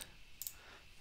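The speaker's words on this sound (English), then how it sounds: "I'm going to click on MX" A single crisp computer mouse click, faint and close, with a quick double tick near the middle and a soft tap at the start, no talking.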